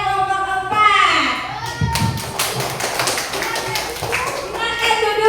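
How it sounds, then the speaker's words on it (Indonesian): Classroom applause for a student group after their presentation, a burst of many hands clapping at close range, mixed with children's voices and a teacher speaking. "Kita beri aplaus kepada kelompok 4."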